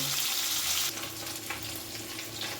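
Gentle sizzling and crackling of rohu fish frying in hot oil, steady and moderately quiet, with no voices.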